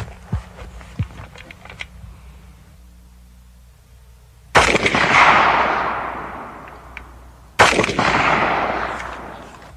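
Two loud rifle shots from a Valmet, a civilian AK-47 variant, firing 7.62x39 Russian rounds outdoors, each a sharp crack followed by a long rolling echo, preceded by small handling clicks.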